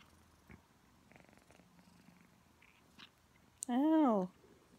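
A kitten being cuddled purrs faintly and low, then gives a brief, louder meow, while a person speaks quietly nearby.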